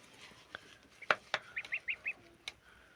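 Young goslings calling in a poultry yard, a series of short high peeps and honk-like chirps in quick succession, fairly close over a quiet background.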